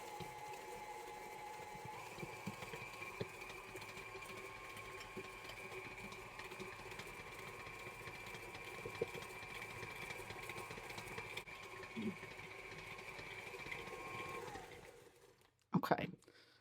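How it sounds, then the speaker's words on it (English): Electric mixer creaming butter and sugar for pumpkin chocolate chip squares, a steady whirring motor hum that runs on for a long stretch, then stops abruptly, with a brief clatter at the end. "Now we're going to turn this on and just let the butter and sugar cream together."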